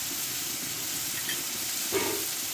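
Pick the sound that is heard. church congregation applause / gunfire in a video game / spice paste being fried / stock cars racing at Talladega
spice paste being fried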